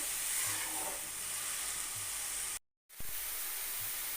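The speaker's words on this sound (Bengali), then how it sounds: "পেঁপেটাকে আগে একটু ভালো করে ভেজে নিতে হবে যাতে পেঁপের কোনো গন্ধ না আসে" Papaya pieces fry in a pan for a Bengali papaya ghonto, giving a steady, close broadband sizzle that cuts out briefly near the end before resuming.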